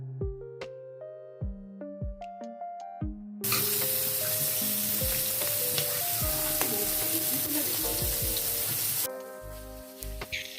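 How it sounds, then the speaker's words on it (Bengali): Spiced hilsa fish pieces hit hot mustard oil in a frying pan, giving a sudden, loud, steady sizzle that runs for several seconds before cutting away, with soft background music before and after. "তারপর মাছগুলোকে ভাজবো।"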